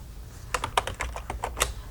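Several quick, uneven keystrokes on a computer keyboard, close and clear, while text is entered into a document, with no one speaking.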